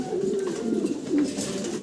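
A Dragon Homer pigeon on a farm gives a single soft, throaty coo close by, brief and alone.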